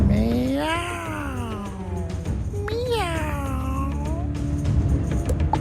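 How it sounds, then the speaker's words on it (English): The Emperor, a cat character in the Wizard101 video game, lets out a long, eerie, wavering haunted meow twice over a steady game soundtrack, loud and up front. "A haunted meow."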